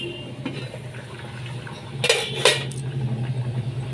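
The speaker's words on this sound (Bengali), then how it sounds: "এখানে আমি 25 মিনিটের জন্য ঢাকা দিয়ে দিলাম।" A lid set onto a pan of hilsa fish curry in mustard paste with green chillies: two bright metallic clinks close together, over a low steady kitchen hum.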